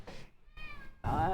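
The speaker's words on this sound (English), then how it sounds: "She's an angry little cat." A cat meows three times in quick succession, the last cry loudest and harsh, sounding agitated.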